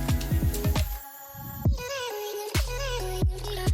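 A sewing machine stitches a strip of fabric for a katori blouse in short bursts, its motor whirring and needle thumping rhythmically, stopping and restarting several times, close up with no talking.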